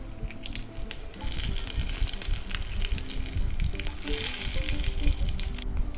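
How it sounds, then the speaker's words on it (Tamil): Mustard seeds and urad dal frying in oil in a pan: a loud, steady sizzle packed with close crackles and tiny pops throughout. "ஒரு பாத்திரத்தில் எண்ணெய் ஊற்றி கடுகு உளுந்து சேர்த்துக்கணும்"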